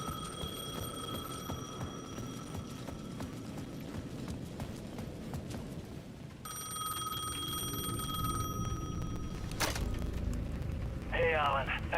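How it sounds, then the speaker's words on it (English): A payphone at the edge of a plaza in the video game Alan Wake 2 rings with a steady electronic tone over a rumbling, murky ambience, the ringing cutting off partway before a brief sharp burst near the end. "The payphone at the edge of the plaza was ringing again."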